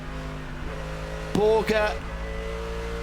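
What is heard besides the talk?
race car passing during Hankook 24H COTA qualifying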